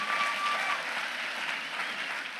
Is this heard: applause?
yes